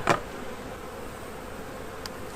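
Honey bees buzz around an open hive as frames are pulled, a steady faint hum throughout with a brief rustling burst at the start.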